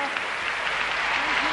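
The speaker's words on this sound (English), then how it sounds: "The audience continues to applaud and applaud." An arena audience applauds ice dance skaters after their routine at a figure skating event, a dense and steady wash of clapping that carries on without a break.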